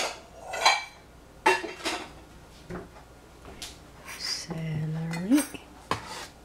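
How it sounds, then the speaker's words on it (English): Utensils clink and scrape against a bowl while celery is mixed for a crunchy kachikachi salad, in a few scattered bright knocks with quiet gaps between them. "Use a bowl to mix."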